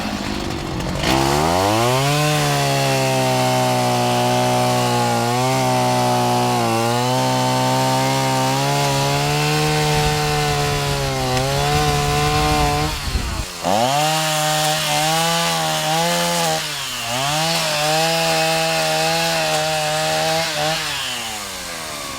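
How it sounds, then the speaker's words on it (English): A gas-powered steel chainsaw cuts wood during fire cleanup, running loud and close in one long whining drone with brief dips and revs as the chain bites in, with no voices. "This is gonna be so much funner with a real chainsaw"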